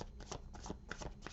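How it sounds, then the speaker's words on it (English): Fairies Oracle cards being shuffled close by, a quick series of crisp riffling bursts in an even rhythm with no talking. "I'm going to shuffle once through the Fairies Oracle."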